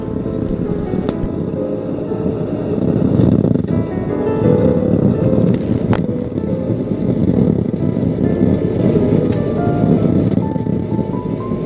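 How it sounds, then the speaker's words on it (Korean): Motorcycles ride past on a rural national road beside a river, a steady roar of engines and road noise that swells and stays fairly loud, with no clear speech. "바이크 타는 사람들이 많네요"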